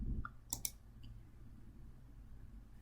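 A few quick, faint mouse clicks close to the microphone, two sharp ones in close succession, then a softer tick, over a quiet low hum.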